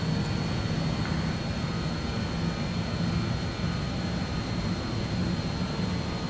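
The jet engines of an Avro RJ100 run at climb power in Microsoft Flight Simulator, a steady, loud, low roar with a faint whine above it and no letup.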